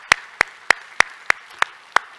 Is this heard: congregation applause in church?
yes